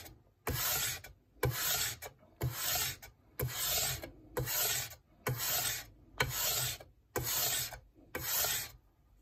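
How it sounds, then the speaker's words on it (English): Clipper blade drawn across sandpaper in nine evenly spaced straight strokes away from the teeth, each a close, loud gritty rasp separated by short silences. "But it always gotta be straight and away from the teeth."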